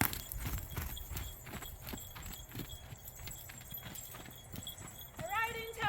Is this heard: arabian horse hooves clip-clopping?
yes